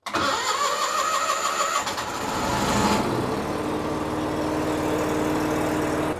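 A diesel heater cranks up with a rough, rattling whir, then settles into a steady, fairly loud running drone, its exhaust vented out through the wall.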